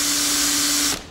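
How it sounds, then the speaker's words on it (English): Steady, loud whine of a drill boring a hole through a boat hull while fitting splashguard brackets, holding constant for about a second before cutting off abruptly. "so you wanna come drill this hole or should I?"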